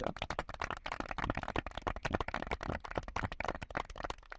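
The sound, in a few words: church congregation clapping for Jesus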